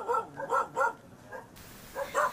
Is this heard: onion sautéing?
no